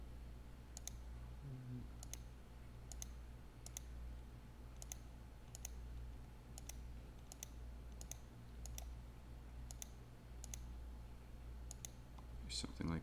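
Sharp computer mouse clicks land roughly every second in an even rhythm during Houdini 3D work, close and clear over a low steady hum, with a brief scrape near the end.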